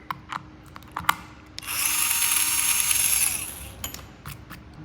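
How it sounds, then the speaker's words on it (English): A small power drill whirs steadily for about a second and a half, drilling a small hole in a Traxxas Mini Maxx RC car part, bracketed by a few sharp clicks and taps, close by with no talking. "You gotta drill a little hole right here,"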